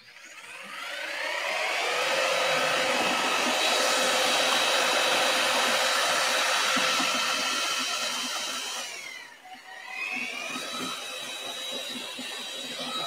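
A mixer churns sand mortar, a steady loud whirring drone that holds for about nine seconds, dips briefly, then resumes a little quieter.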